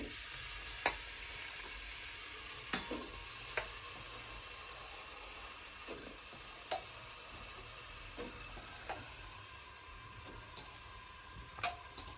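Bottle gourd frying in hot oil on a gas stove in a home kitchen, giving a steady low sizzle with scattered sharp pops and crackles, fairly quiet and with no one talking.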